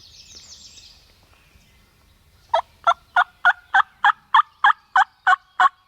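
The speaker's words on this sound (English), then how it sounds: "They're fired up, gobbling everything." Wild turkey gobblers gobble in a field, first a faint chirpy call, then about eleven loud, evenly spaced gobbles in quick rhythmic succession, fairly close and clear over quiet background.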